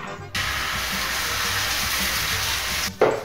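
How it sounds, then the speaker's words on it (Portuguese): Cornmeal fritters fry in a frying pan with a loud, continuous sizzle and hiss that starts abruptly and runs steadily for about three seconds before cutting off. "E é pra deixar fritando ali."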